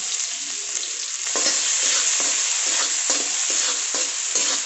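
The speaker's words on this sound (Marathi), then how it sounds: "कांदा फुल गॅसवरती परतून घ्यायचा" Onion with cumin and green chilli sautés in oil over full flame, a bright continuous sizzle with rhythmic spoon strokes stirring through the pan, close up.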